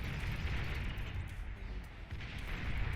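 Bombs exploding in the real-time strategy game Beyond All Reason, a faint, distant rumble of overlapping blasts and crackling booms that continues steadily with no talk over it.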